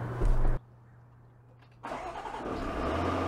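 A Land Rover LR4 starts up: a short loud crank burst, a moment of near quiet, then the engine catches and settles into a steady, moderately loud idle hum.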